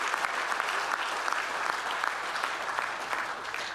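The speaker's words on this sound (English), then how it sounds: "What about a round of applause to all 5 of our finalists?" Audience applause for the five finalists at an innovation awards ceremony, a steady, dense round of clapping that holds at even volume throughout without pause.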